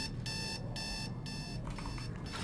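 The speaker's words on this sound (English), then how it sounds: "But who has an alarm at fucking 12 o'clock?" An alarm clock rings in rapid repeated bursts of bright electronic beeping, moderately faint under a continuous low background rumble.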